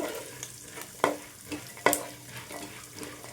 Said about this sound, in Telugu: ఇవి మనం ఏవేవి వేసుకోవాలనుకుంటున్నాం అవన్నీ కూడా కలుపుకుంటూ వేయించుకోవాలి, లేకపోతే అడుగు మాడిపోతుంది